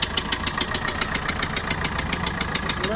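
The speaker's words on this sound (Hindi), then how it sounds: "ये कहा तो लिस्टर इंजन चालू है यार।" A Lister engine running steadily at idle, a loud, close, rhythmic chugging with regular even beats throughout and no talk over it.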